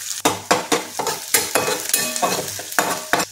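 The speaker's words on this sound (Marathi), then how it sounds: "बारीक चिरलेला कांदा टाकूया आणि कांदा तांबूस कलर येईपर्यंत भाजून घेऊया." Chopped onion and green chilli fry in hot oil in a pan, stirred now and then: a close, steady sizzle broken by a series of sharp scraping stirs.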